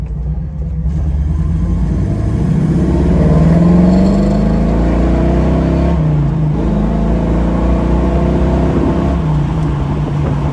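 A 1965 Ford Mustang convertible drives along with a loud, steady engine rumble and rising revs, accompanied by wind and road noise, with no talking.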